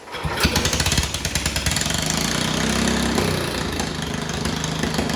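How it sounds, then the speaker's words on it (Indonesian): Steady mechanical drone of a factory production machine, a continuous rumbling engine-like hum with rapid rhythmic clatter running throughout at moderate level, no voices. "Adapun sumber kebisingan di lingkungan kerja antara lain, yang pertama, mesin produksi di pabrik."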